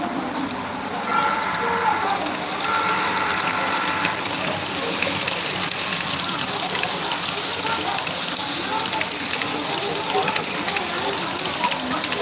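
A train runs on the South Florida Fair railroad with a continuous rumble and rattle, and faint whistle tones near the start. The busy fairground noise and voices around it are heard throughout.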